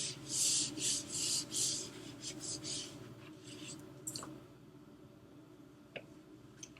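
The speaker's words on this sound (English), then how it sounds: "while I erased up here" A board is erased in a run of rhythmic rubbing strokes that start loud and close, then thin out into softer scattered swipes and a few light taps, with no talking.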